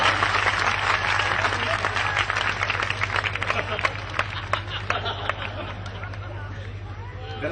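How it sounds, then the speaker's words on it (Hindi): Audience clapping at a Hindi comedy show in Haryana, a dense burst of applause that swells then gradually thins out, with a low steady hum beneath. "एक बार तालियां बजा दो"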